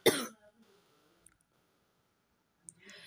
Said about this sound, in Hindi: बहुत ज़्यादा खांसी हो रही है आज